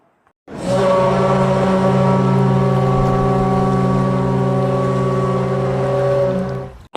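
A deep ship horn blasts in one long sustained tone, loud and steady with rich low harmonics, holding for about six seconds before cutting off.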